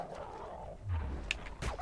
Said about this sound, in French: c'est le problème des chiens. Les malinois, là. Ces chiens de flics.